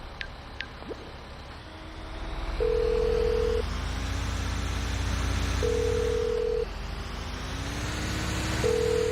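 Phone dialing in the PC game GTA5: a few quick beeps open the clip, then a steady dial tone runs under game engine noise, broken by three long, loud tonal bursts of the call ringing out, with no voices.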